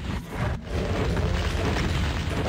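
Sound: explosions in a Doom WAD video game

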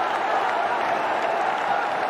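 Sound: cricket stadium crowd applauding a batsman's fifty

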